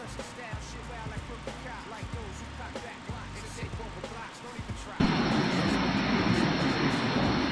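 McDonnell Douglas MD-80 jet engines climbing in Microsoft Flight Simulator, a steady cabin drone that jumps into a loud, broad roar partway through, with someone speaking over the earlier quieter part.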